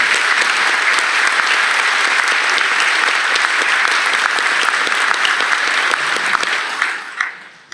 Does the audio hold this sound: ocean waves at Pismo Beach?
no